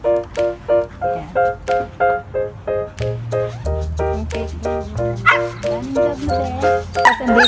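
A dog gives a long run of short, evenly spaced yips and barks, close and loud, with higher whining calls toward the end.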